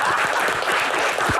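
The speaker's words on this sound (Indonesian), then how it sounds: "kita berikan tepuk tangan untuk Kang Maman." Audience at a live Q&A event clapping in a short dense burst, with a voice briefly audible over it.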